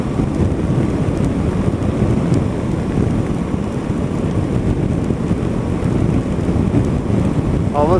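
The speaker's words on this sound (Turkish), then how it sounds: "Yağmurda sürüşe devam ediyoruz." Steady rain drumming with a constant low road rumble from a moving car on the road between Bayat and Sivrihisar, Turkey, at 14 degrees, dense and unbroken throughout.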